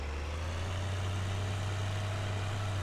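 A tractor engine in Farming Simulator 2013 drones steadily while the tractor turns. It is a loud, continuous low rumble with an even pitch and no breaks.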